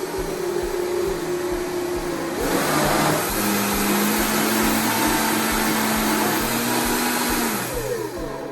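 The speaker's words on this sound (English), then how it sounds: "I love this blender." A kitchen blender whirs steadily while grinding malagueta peppers, its motor pitch shifting partway through as the load changes, a loud continuous drone with no talk over it.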